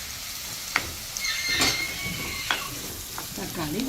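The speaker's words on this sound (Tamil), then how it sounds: "இனி நாங்கள் தக்காளியை பதக்கலாம்." Tomatoes sauté in a hot pan with a steady sizzling hiss, punctuated by a few scraping stirs and clinks of a utensil against the pan.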